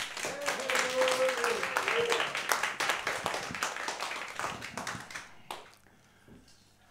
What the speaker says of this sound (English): let's have a big round of applause for Stephen Duncan